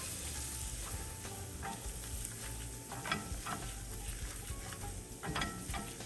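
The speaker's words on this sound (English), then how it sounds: "We're gonna add 2 tablespoons of flour and mix that up." Flour stirred into melted butter in a pan, a soft, quiet sizzle under light, irregular scraping and clicking of a utensil against the pan, close and without talk.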